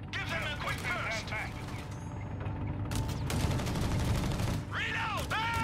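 Machine gun bursts in Company of Heroes 3, a rattling stretch of firing with mechanical clatter under the battle noise while soldiers call out orders.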